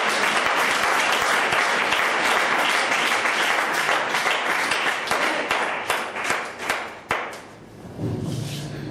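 A church congregation applauds loudly and steadily, with dense clapping that thins into uneven bursts near the end.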